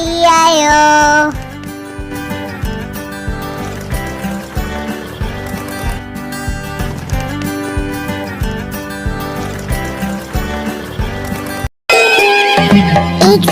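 A horse neighs in a children's phonics and Holi song, a loud whinny opening over busy music followed by rhythmic clip-clop beats, a brief silent break, then another neigh near the end.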